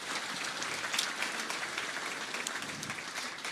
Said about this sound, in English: please clap. Please clap.